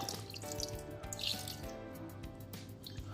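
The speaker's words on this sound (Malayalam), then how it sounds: "ഇനി നമുക്ക് ഇതിലേക്ക് കുറച്ച് വെള്ളം ഒഴിച്ച് കൊടുത്തിട്ട് നന്നായി ഇളക്കിയതിന് ശേഷം നമുക്ക് വേവിച്ചെടുക്കാം." Water poured into a pot of quail roast makes a short splashing, trickling pour that runs steadily for a few seconds at close range.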